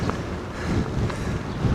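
Strong southerly wind on the Manawatu River Trail outside Palmerston North, a constant low rumbling buffet across the microphone, steady and close throughout.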